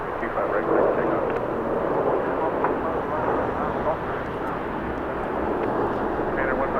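Heavy jet taking off from runway 25 right at Los Angeles airport, a broad steady roar holding loud throughout the stretch, with radio voices talking over it.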